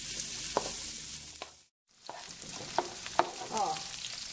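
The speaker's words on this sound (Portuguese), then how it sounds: "Vou deixar dar uma tostadinha nessa minha linguiça." Sausage (linguiça) sizzles and toasts in a pan, a steady frying hiss broken by occasional stirring clicks and a brief silent gap partway through.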